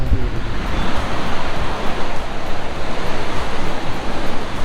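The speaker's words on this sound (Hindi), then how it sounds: "ये वाटरफॉल है टैगुनगन वाटरफॉल" Tegunungan waterfall in Bali roars as a dense, steady rush of falling water, loud and constant with a faint pulsing swell.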